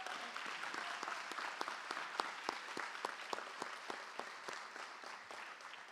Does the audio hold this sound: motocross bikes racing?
no